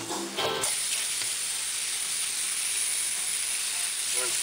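Small tomatoes are rinsed under a running faucet, a loud steady hiss of streaming water close up that holds evenly throughout.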